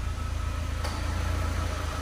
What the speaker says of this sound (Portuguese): Acionou o compressor que eu ouvi daqui.